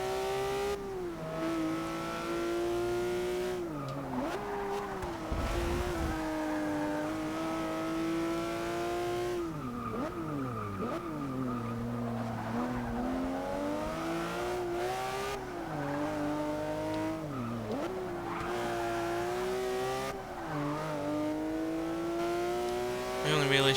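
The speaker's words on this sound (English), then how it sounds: "Ferrari's a naturally aspirated Italian V8. Way higher revving than that Corvette" A naturally aspirated Ferrari V8 revs hard in the Forza 6 racing game. The engine note climbs and drops through repeated gear changes, loud and continuous for the whole stretch.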